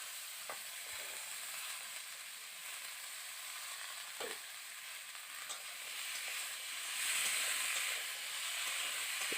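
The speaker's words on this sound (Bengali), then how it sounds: "এবার দিয়ে দিচ্ছি কেটে রাখা উচ্ছে আর আলুটাকে" Sliced bitter gourd and potato frying in hot oil give a dense, steady sizzle with a few soft stirring knocks, close and constant.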